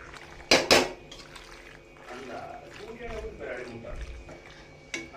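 Cooked pasta tipped into a pan of red pasta sauce with melting cheese, giving a soft wet plop and a brief clink of utensil against the pan, followed by low scraping and stirring sounds.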